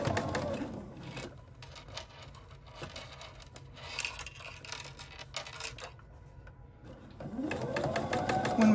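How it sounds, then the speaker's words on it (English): A sewing machine stitches a side seam of a purse-frame coin purse at a quarter-inch seam allowance, a close, continuous whirring run that slows and pauses in the middle before picking up again. "we are going to drop our needle, pivot, and continue sewing."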